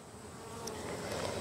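Honey bees buzz at a crowded hive box, a steady close drone with a few louder passes of single bees, alone without talk.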